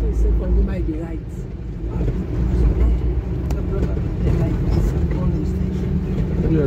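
Vehicle driving through Gbangbantoke, Sierra Leone, heard from inside as a constant low engine and road rumble, with people talking over it.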